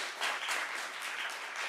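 Applause from the audience at a city council meeting: a short burst of scattered clapping in a large room that rises quickly and holds steady, with no voices over it.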